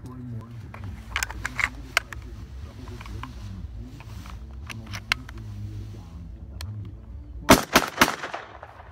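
A Benelli Vinci shotgun fires Federal heavy field loads, 1.25 oz of number 6 shot, with a burst of loud near blasts late on above a steady low rumble and scattered clicks.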